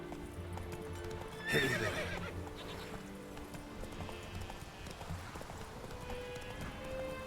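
Roach the horse in The Witcher 3 trots with steady clip-clopping hooves and lets out a whinny, fairly faint, while someone speaks briefly over it.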